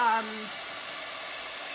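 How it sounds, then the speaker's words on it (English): A hair dryer blows steadily on a freshly chalk-painted sign, its constant airy whir filling the whole clip after a brief voice at the start. "I'm just gonna take my dryer and give this a little dry"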